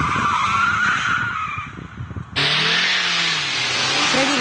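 A KIA Optima drifting with its stability control switched off gives loud, sustained tyre skidding and revving engine noise, rising abruptly to a steady full-level screech partway through.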